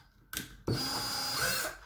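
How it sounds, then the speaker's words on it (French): A power drill with a 2.5 mm bit bores a hole in an inline skate. A short spin-up is followed by a steady, close, high-pitched whine for about a second before it winds down. "Donc vous allez percer vraiment perpendiculaire à votre patin."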